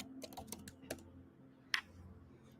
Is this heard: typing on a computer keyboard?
yes